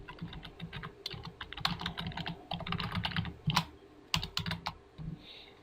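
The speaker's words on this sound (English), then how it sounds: "And I can just come and start typing." Clicky, quiet typing on a computer keyboard at a desk, a fast irregular patter of keystrokes in short bursts with brief pauses, close and alone without speech.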